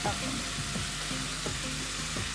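Chili powder hitting a pan of frying vegetables already cooking with dried and green chilies, a dense close sizzle with a few scraping stirs, no one talking over it.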